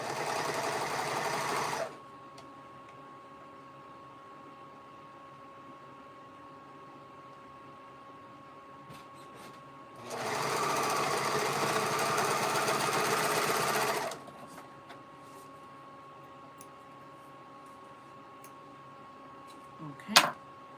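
A serger sewing machine runs in two loud, steady bursts of whirring stitching, about two and four seconds long, separated by a quiet stretch with a faint hum and a small clatter at the end.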